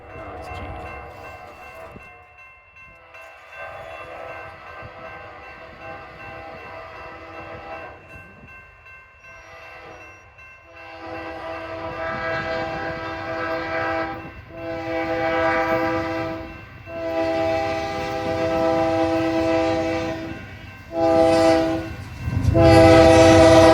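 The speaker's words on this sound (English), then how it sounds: "Southbound is UP Manifest Train MPRNL Daily Manifest Train from Proviso" A Union Pacific manifest freight train rumbles past nearby in Whittington, Illinois, with a loud, sustained horn sounding in several long blasts over the rolling rail noise.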